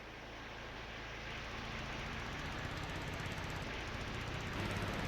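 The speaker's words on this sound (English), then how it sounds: "why don't we hop on the mower," A John Deere mower in the Farming Simulator 22 game runs with a steady mechanical engine drone that grows slightly louder and rougher toward the end, with no talk over it.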